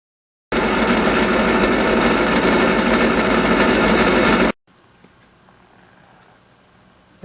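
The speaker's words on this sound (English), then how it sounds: "a drill press with a variety of wire wheels just makes this job go as quick as possible" A drill press spinning a wire wheel to clean motorcycle hardware, a loud steady whirring grind for about four seconds that cuts off abruptly into quiet room tone.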